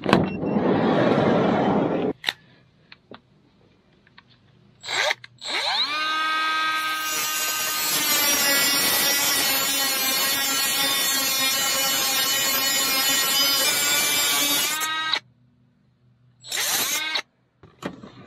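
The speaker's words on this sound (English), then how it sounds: "I think I'm going to go ahead and trim off this little itty bitty piece there" Small power tool trimming off a tiny piece during a cooler repair, starting with a short burst, then a long steady high whine that rises in pitch as it spins up, stops, and briefly runs again.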